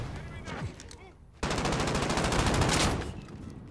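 Rapid automatic gunfire from the video game Call of Duty: Modern Warfare, a sustained loud burst after an abrupt start, with softer game sounds and some voice beforehand.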